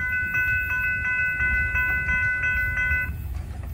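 Florida East Coast Railway freight train FEC 206, hauling older locomotives, speeds past at a golf club in Daytona Beach; a loud steady rumble runs throughout beneath repeated high tonal squeals, sounding close and continuous.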